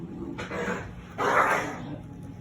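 A dog resisting being picked up gives two short bursts of barking or yelping, close and moderately loud, over a low background hum, with no voices.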